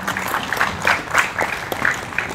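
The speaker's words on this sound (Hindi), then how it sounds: "कलाकार को जो है ना जबरदस्त तालियों की दरकार है" Audience applause for performers at a stage event, a steady wash of many hands clapping at close range, even and sustained without speech.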